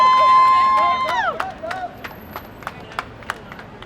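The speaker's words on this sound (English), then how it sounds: "Please give Jay a round of applause." Scattered hand claps from a crowd at a Kingsbridge community gathering in the Bronx ring out as sparse, separate claps, fading after a brief sustained tonal sound at the start.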